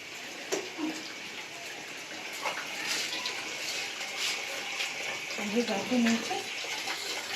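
A kitchen tap runs water steadily into a sink, a continuous close hiss and splatter with brief small splashes, while someone talks over it.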